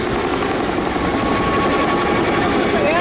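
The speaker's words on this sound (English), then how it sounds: "This brings us to the end of the Royal Air Force Chinook display." A Royal Air Force Chinook helicopter flies a display at an armed forces day event in Cleethorpes, its loud, continuous twin-rotor roar filling the whole span up close and steady, with no break.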